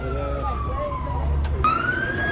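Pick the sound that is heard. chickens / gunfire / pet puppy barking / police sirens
police sirens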